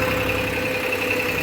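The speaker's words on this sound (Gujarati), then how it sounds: "ટ્રેક્ટર પેન ચાલુ છે." A tractor engine runs in a hot field, a steady, continuous mechanical drone with a constant tonal hum, moderately loud and unbroken.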